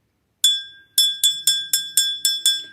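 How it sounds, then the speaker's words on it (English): A hand bell that belonged to the ringer's mother is shaken, with eight bright metallic rings in quick rhythmic succession, each ringing clear and close, then decaying. "let me ring my bell"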